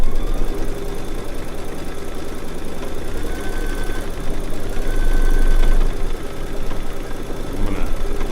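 A Baby Lock quilting machine stitches an edge-to-edge quilt design, giving a steady, close mechanical whir with a low motor hum and no talking.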